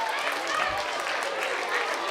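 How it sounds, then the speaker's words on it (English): Audience applause at a school event honoring a young author, steady broadband clapping throughout with a dense, even texture. "let's give a big round of applause for our awesome author, Frank"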